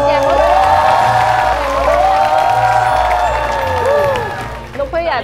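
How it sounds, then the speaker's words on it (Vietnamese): A studio audience at a Vietnamese comedy show breaks into sustained crowd applause and cheering, layered under music and voices, then fades near the end. "Vỗ tay một tràng."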